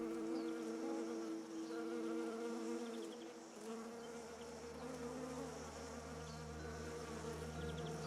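A swarm of honeybees buzzes steadily, a dense, continuous hum of many wings close by with no other sounds over it.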